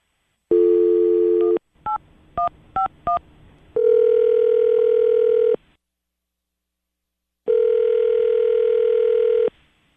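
Telephone call being placed: a steady dial tone, then a quick burst of four touch-tone dialing beeps, followed by two long electronic ringback tones separated by a pause, clear and close.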